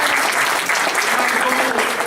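Audience applause at a company sales event in Lisbon, dense steady clapping from a crowd throughout, close and fairly loud.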